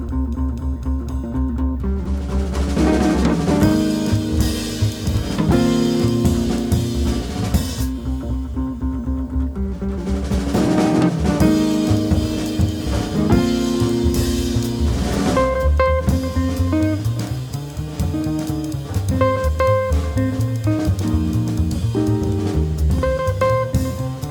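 A jazz trio playing an instrumental arrangement, heard as a recording: dense continuous band music with guitar, bass and drums, steady and loud throughout with shifting melodic lines.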